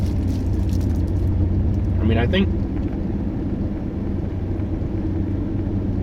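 A General Motors-era car rumbles low and steady while driving, with someone talking briefly over the continuous engine drone.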